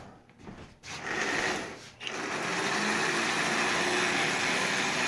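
Marx prewar Commodore Vanderbilt toy train, missing a brush plate, its electric motor whirring steadily and straining under a heavy load, with a couple of brief dips before a continuous buzzing hum.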